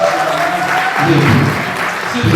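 An audience at a wedding celebration claps in dense, continuous applause, fairly loud and close, filling the moment without voices.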